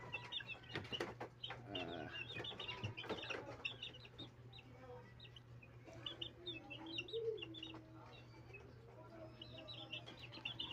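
Young chickens about a month old peep and cluck softly in a coop, with a steady low hum running underneath and scattered short calls throughout.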